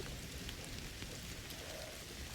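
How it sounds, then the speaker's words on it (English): Rain in the video game Indiana Jones and the Great Circle falls as a steady, soft hiss with scattered drops, faint and unbroken for the whole stretch. "Don't you love rain?"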